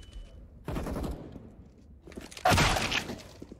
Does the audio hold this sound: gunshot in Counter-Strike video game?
yes